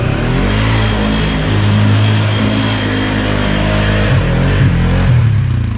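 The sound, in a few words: Polaris Sportsman ATV engine revving in mud rut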